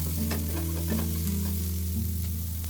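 Chopped onion sautéing with ginger and garlic in a pan for potato rice, a continuous close sizzle with light stirring taps over a steady low hum, no voices.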